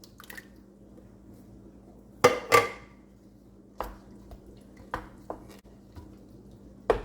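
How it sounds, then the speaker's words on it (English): A spoon crushing canned whole tomatoes in a pot, with a few separate wet squishes and metal knocks against the pot's side, close by and spaced over a quiet background hum. "I'm going to go in there and make sure I got all of them crushed up."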